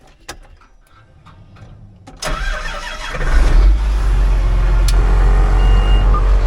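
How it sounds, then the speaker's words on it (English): A tractor engine cranks and catches after a quiet start with faint clicks, then settles into a loud, steady low-pitched idle with an air compressor running alongside. "I'm gonna start the tractor up and turn this air compressor on to get some air in the bags."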